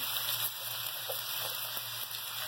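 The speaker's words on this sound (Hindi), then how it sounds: "मैंने सब्जी को 5 मिनट तक फ्राई कर लिया।" Cauliflower and potato pieces frying in oil in a karahi, a soft, continuous sizzle with faint crackles and occasional stirring clinks, fairly quiet.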